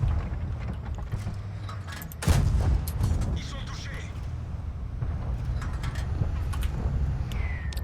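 Artillery shells strike around a tank in the World of Tanks AMD 178B match, one heavy boom standing out among scattered distant blasts over a steady engine rumble.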